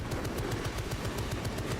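Turret in the video game Space Marine 2 firing a steady, rapid stream of evenly spaced shots, loud and continuous throughout with no pauses.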